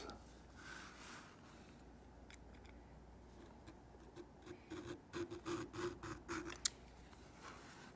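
A gouge cuts lines into leather for a minimal wallet, giving faint, soft scraping strokes that turn into a run of short, rhythmic rasps toward the end, close and quiet over a low background hum.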